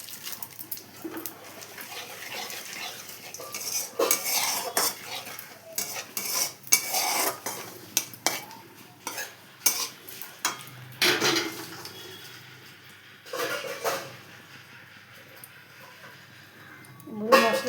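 Cinnamon, cardamom, bay leaf and a little sugar are stirred as they fry in a pan, with repeated close scraping and clinking strokes and a faint sizzle, while a voice talks over them.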